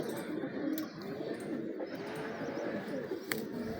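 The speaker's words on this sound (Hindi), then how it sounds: "ये खालिद चोई साहब वाले और प्रिंस कमगर कबूतर हैं।" Prince Kamgar and Teddy breeder pigeons coo softly and repeatedly at a low, steady level, set against a constant background hum with a few faint chirps.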